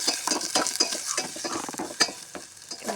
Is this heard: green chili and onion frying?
yes